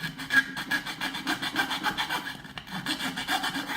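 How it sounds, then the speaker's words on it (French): A hand file rasps back and forth on a part for a battery-powered Christmas decoration being converted to mains power with a connector. The strokes are steady and rhythmic, close and continuous, with no talking. "je vais prendre quand même un petit peu la lime pour évaluer vite fait"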